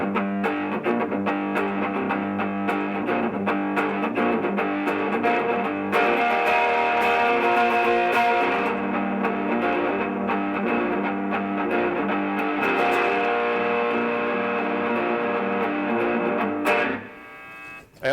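An electric guitar through a distortion pedal plays sustained chords and riffs with a gritty, biting tone, ending with a final strum that cuts off.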